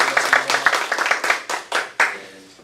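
Audience applause at a business presentation, a small group clapping close by in a brisk cluster that thins to a few last claps.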